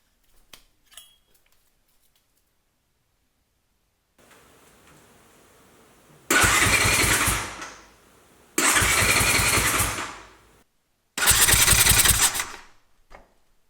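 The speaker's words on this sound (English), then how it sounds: "I will hit the starter a little bit to make sure that all the oil from the oil" A Kawasaki KX250 dirt bike's starter cranks the engine in three loud, close bursts of buzzing whir lasting a couple of seconds each, separated by pauses, after quiet handling noises.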